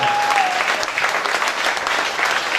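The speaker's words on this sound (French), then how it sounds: "Nous applaudissons le Seigneur comme des vivants qui applaudissent un Jésus vivant" A church congregation applauds loudly and steadily, a dense wash of many hands clapping close by, with a faint sustained tone briefly audible at the start.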